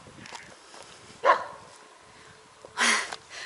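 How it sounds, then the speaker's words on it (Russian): A dog barks on the grounds of a monastery near Sevastopol, with a couple of sharp, fairly close barks spaced a second or so apart, then a longer bark at the end, against quiet surroundings. "Я просто испугалась, что собака ко мне сейчас подбежит."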